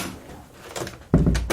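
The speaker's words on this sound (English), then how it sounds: "What is it with the doors in this place swinging open?" Quiet room tone gives way to a door swinging open, ending in a sudden dull thump and a brief rattle close by.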